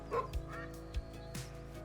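A hunting dog in theHunter Call of the Wild gives a few short barks under steady game ambience and background music.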